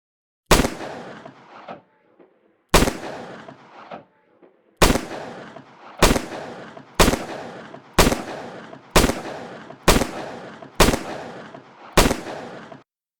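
Blank-firing replica firearms of the kind used in film and television go off in nine loud, sharp single reports, with long gaps at first and then about one per second, each with a short echoing tail and no talking.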